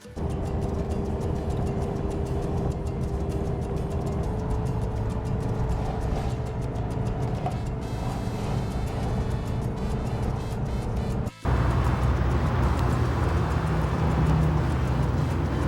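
Steady engine and road rumble from inside a car driving toward Quito, Ecuador, continuous and fairly loud with a brief cut before a slightly brighter drone resumes.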